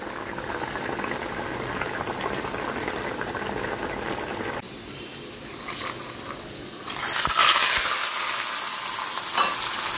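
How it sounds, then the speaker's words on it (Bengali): A pot of fish curry bubbles and simmers steadily on the stove, a close, continuous hiss that softens midway and then swells louder near the end. "মাছের ঝোলটা প্রায় হয়ে এসছে।"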